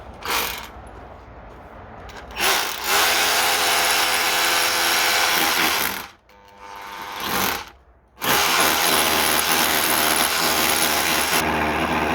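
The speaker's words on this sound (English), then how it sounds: "And then you want to sit your hammer drill to hammer." A hammer drill bores into a brick wall beside a gate post, a loud, close grinding whine in long sustained runs broken by two short pauses.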